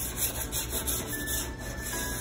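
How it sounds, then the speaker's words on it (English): Edges are scuffed by hand sanding before spray painting, making a quick, continuous close rubbing rasp in short repeated strokes with no talking. "You just scuff the edges, that's all you're doing, real quick."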